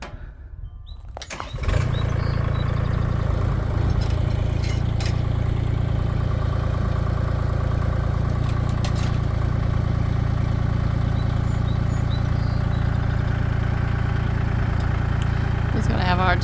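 Farm tractor engine starting up and settling into a steady, loud idle that drones evenly and close by for the rest of the span, with only small clanks over it.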